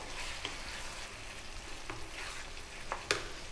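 Whole cherry or plum tomatoes sizzle quietly in a pan of vegan tomato curry, with a low steady fry broken by a few soft stirring scrapes and clinks, no voices.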